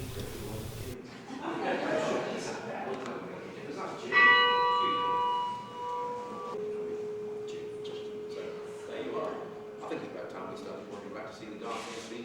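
A church bell, tuned by metal removal on a large vertical lathe, rings out with one clear struck tone that hums and slowly decays, while a narrator talks before and after it.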